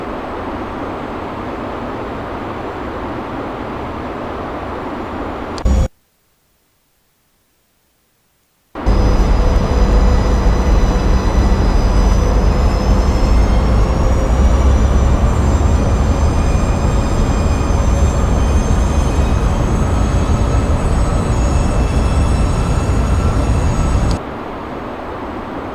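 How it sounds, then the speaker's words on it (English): Steady loud rumble and airflow inside a PMDG 737 NGX flight simulator cockpit as landing gear and flaps extend, with a brief dropout of near silence before a slightly louder, rising mechanical whine continues. "Put the gear down and extend the flaps out on schedule."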